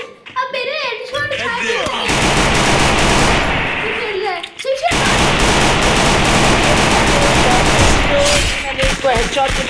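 Rapid automatic gunfire and headshot effects from the Free Fire mobile game rattle loudly in long sustained bursts, with a voice talking over the start and the gaps.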